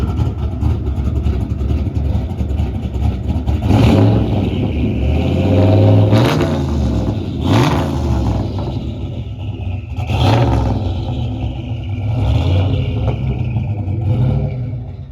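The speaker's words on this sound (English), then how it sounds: "Give it a little rev up." A 1993 Ford Mustang Fox Body Cobra replica with a turbocharged engine, revved from a rumbling idle in several loud blips, with the exhaust swelling and falling back close by.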